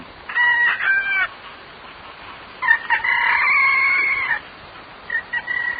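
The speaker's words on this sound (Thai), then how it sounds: "เสียงไก่โหอยู่ไม่นาน" A rooster crows at dawn, two clear drawn-out cock-a-doodle-doo calls heard up close, followed by a brief fainter start of another crow.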